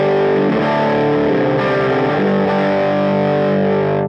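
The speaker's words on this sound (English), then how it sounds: "So it can get pretty distorted real quick." An electric guitar played through an EP Booster pedal with the gain turned up halfway into an already slightly distorted amp gives a loud, sustained, heavily saturated chord that rings out alone and cuts off sharply at the end.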